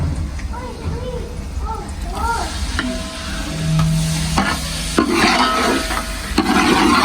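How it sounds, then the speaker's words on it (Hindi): Onions frying in ghee in a pan, a steady close sizzle with stirring scrapes, while a person talks over much of it. "प्याज को हमने ब्राउन करना है, ठीक है, हल्का हल्का ब्राउन करना है प्याज को"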